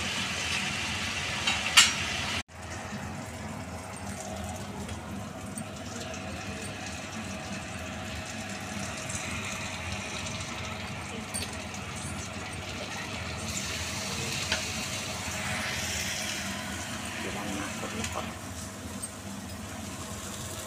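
A spice paste of garlic, ginger and tomato stir-fried in a pan gives a steady, soft sizzle with faint stirring and scraping throughout, fairly quiet and unbroken.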